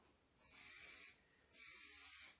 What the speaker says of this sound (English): I'll mist the finishing spray in and I'll finalize that curl